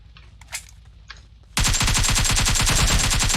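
PUBG Mobile gunfire, a few scattered faint shots, then a loud sustained burst of rapid automatic fire that continues to the end.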